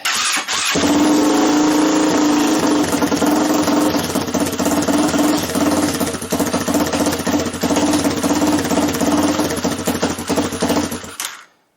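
A small minibike engine runs steadily after a carburetor adjustment, a loud, buzzing single-cylinder drone holding a fairly even idle for about eleven seconds before cutting off abruptly.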